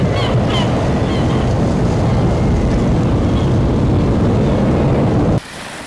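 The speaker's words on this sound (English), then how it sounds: "So some breaking waves were slowed down" Breaking ocean waves slowed down for a film effect, a loud, steady, deep wash of surf that rolls on continuously and then drops off abruptly near the end.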